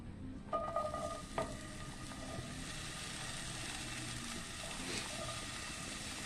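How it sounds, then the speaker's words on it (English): Chopped vegetables crackle and hiss in a skillet of bacon grease, with a few sharp pops and clatters as they go in before settling into a steady, moderate sizzle. "In the same skillet, you're going to add all your chopped vegetables."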